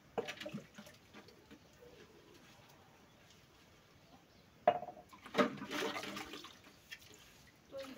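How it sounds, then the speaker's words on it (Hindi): Running water and clinking dishes as a woman washes up at home, splashing bursts and clattering pots over low background noise, with pigeons cooing faintly nearby. "तो मैं अभी बर्तन धो रही हूँ, तो जल्दी से धो लेते हैं"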